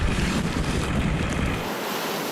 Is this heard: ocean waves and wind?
yes